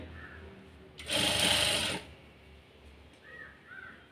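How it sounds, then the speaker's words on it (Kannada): A sewing machine stitching a blouse runs in one loud, close burst of about a second, with crows cawing faintly in the background before and after. "ಇದನ್ನು ನೀವು ಒಂದು ಕಾಲು ಇಂಚು ಸ್ಟಿಚಿಂಗ್ ಮಾರ್ಜಿನನ್ನು ಇಟ್ಕೊಂಡು ಸ್ಟಿಚ್ ಮಾಡ್ತಾ ಬನ್ನಿ"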